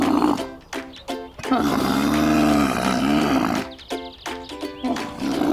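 A camel lets out a long, deep, throaty groan, close and loud, with shorter grunting bursts before and after it.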